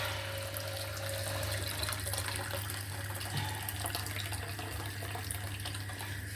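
Tap water runs steadily into a pot being filled in a home kitchen, a continuous close splashing rush with a low hum beneath it and no talking.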